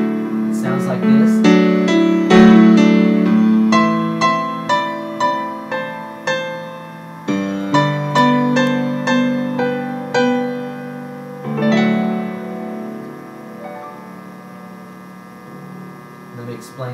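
Solo piano playing the ending of the worship song You Are Welcome, a slow sequence of sustained chords and melody notes ringing out and decaying into a held final chord.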